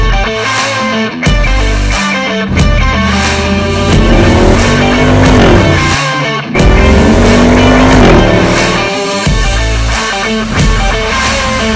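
A 2023 Jeep Wrangler Rubicon 392 runs loud and close, a dense continuous roar with two rising revs in the middle, over what sounds like a busy backing track.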